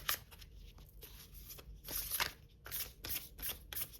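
Tarot cards are shuffled by hand in a quiet room, a series of soft, crisp riffling and slapping bursts coming in uneven clusters, close and faint, with no talking.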